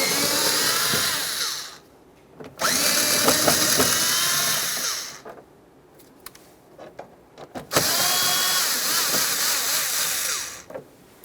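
A power drill backs Phillips head bolts out of the wheel well liner of a Toyota Sienna in three loud whirring bursts, with short pauses between them filled by faint clicks and handling noises.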